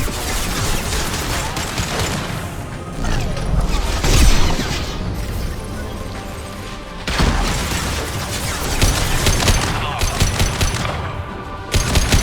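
Dense video game gunfire from Mass Effect 2 in a squad firefight: rapid automatic bursts, booms and crackling impacts pile into a loud continuous barrage, with a few brief lulls and sharp bursts toward the end.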